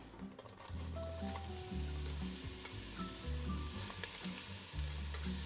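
Diced onion sizzles in extra virgin olive oil in a Dutch oven, a steady close hiss with periodic stirring scrapes and soft clinks of a spoon against the pot.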